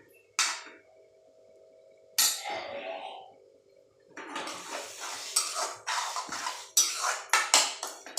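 Metal cookware clatters in a kitchen as a lid is set over a pan of egg bhurji: a few sharp clinks and scrapes, then a run of quick rattling knocks and taps, close and clear with no talking.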